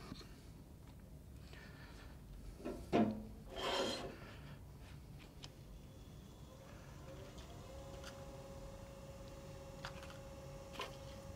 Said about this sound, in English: So we're just going to give that a quick sand with the 320 and the 400.